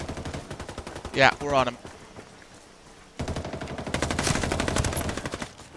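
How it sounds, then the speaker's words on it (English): Automatic weapon fire in the online shooter Ghost War rattles out in two loud bursts, a short volley early and a longer sustained spray later, with a player speaking briefly over the action. "Taking heavy fire."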